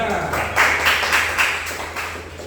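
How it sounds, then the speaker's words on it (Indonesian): A class of students claps during a micro-teaching lesson, a brief patter of applause from a small group mixed with voices talking over it. "ya tepuk tangan"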